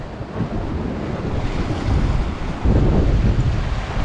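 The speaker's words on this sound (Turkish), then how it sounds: "Rüzgar burada çok arttı arkadaşlar" Strong cold wind buffets the microphone on the Aegean coast near İnceburun, Datça, a loud, continuous roar that swells in gusts, with no voices.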